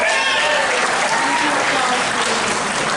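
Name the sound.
audience applause at annual meeting vote results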